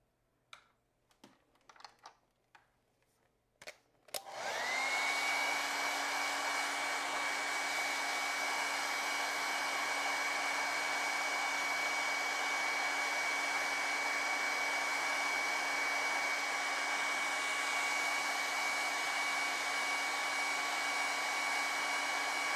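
A hair dryer switches on after a few soft clicks and handling noises, then blows steadily and loudly with a constant whir, drying acrylic paint on a raven and pumpkin painting.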